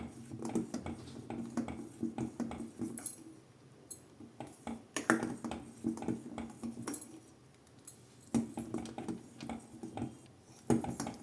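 Mango sago payasam being stirred in a hot pot, a utensil scraping and clinking against the metal in irregular bursts, close and fairly quiet, with no talking.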